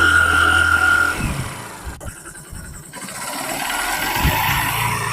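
A motorcycle engine hums and drones on a narrow forest ghat road, its pitch rising and falling as the rider shifts speed going downhill around 60, with a short dip in the noise midway.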